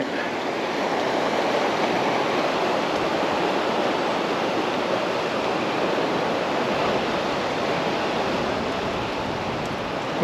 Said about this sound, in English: we'll look at the roaring brook from another perspective